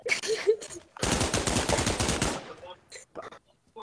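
Rapid automatic gunfire in the VR shooter Pavlov, a loud, close burst of about a second and a half of fast shots, followed by scattered shorter sounds and a voice.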